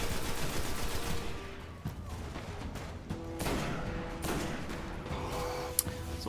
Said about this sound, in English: I hate those guns. The bullets kind of follow track all the way to you.